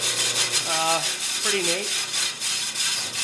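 A 1935 Speedxa jigsaw with a 14 blade cutting 3/4 inch plate gives a steady, close rasping chatter throughout, while someone speaks briefly over it.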